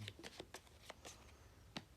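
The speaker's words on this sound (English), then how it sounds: "You look at them, shuffle them up," Playing cards shuffled by hand during a Hot Potato card game, a quiet series of short riffling bursts with a pause before a final snap, no talk over it.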